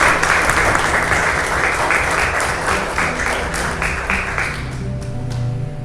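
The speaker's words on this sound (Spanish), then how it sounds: "¿Le podemos dar un aplauso a nuestro Dios?" Church congregation clapping during a Spanish-language worship service, a loud, full round of applause that holds steady for several seconds before tapering off near the end.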